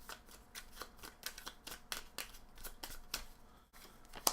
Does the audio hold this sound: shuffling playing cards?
yes